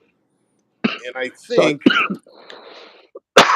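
A man gives a couple of short, rough throat-clearing coughs between bursts of his own close speech, with silence before and a loud sound at the end.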